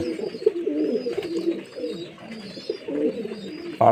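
Pigeons coo steadily and close by in a low, rolling murmur while they feed from an outstretched hand, with a brief louder sound at the very end.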